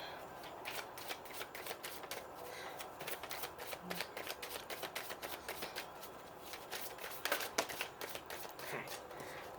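A tarot card deck is shuffled close by, its soft riffling and flicking going on steadily at low volume without talk.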